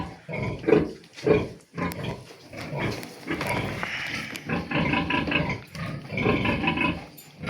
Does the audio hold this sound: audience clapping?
no